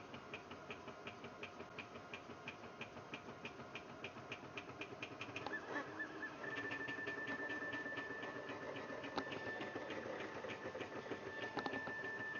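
A Rook 3D printer runs steadily at high speed, its stepper motors giving a continuous whirring buzz with rapid rhythmic ticks and a sustained whine joining partway through, moderately near and alone.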